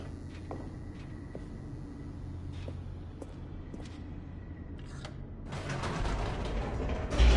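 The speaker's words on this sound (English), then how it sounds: "The elevator raced downward, plummeting towards an unknown fate." Elevator machinery descending in the video game The Stanley Parable: a steady low mechanical rumble with scattered creaks and clicks, swelling into a louder grinding rush near the end, with no voices.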